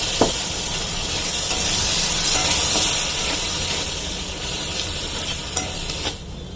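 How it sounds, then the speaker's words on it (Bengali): Water poured into a pan of sizzling Hyderabadi egg salan masala, producing a continuous, fairly loud hissing sizzle and steam with occasional small pops and stirring sounds. "এই যে জল দিয়ে দিলাম।"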